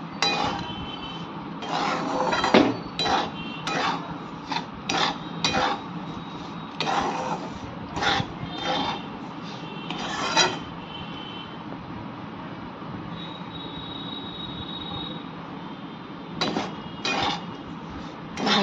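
A utensil stirs semolina with potato and carrot in a pan, making repeated scraping clinks in uneven bursts with short pauses, close by and with no talking.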